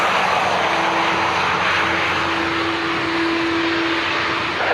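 An aircraft engine roars on the runway at Dublin Airport, a loud, continuous broadband rush with a steady droning tone, heard from a distance without any talking.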